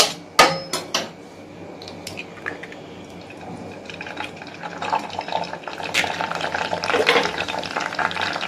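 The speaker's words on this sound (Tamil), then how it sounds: "முட்டையை உடச்சி ஊற்றிக்கலாம்." Eggs are cracked and poured into a pan for a spicy egg pulao. A few sharp, close taps come first, then a steady wet pouring and bubbling noise that builds toward the end.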